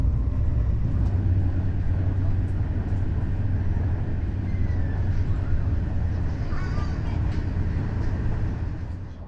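A retro Hungarian train runs steadily on the rails, a loud, continuous low rumble of wheels and carriage lasting throughout and easing slightly toward the end.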